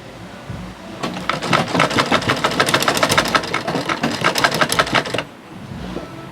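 A sewing machine stitches a pleated peplum gown in a fast, steady run of rapid needle clicks, starting after a pause, running about four seconds, then stopping, close and clear with no talking.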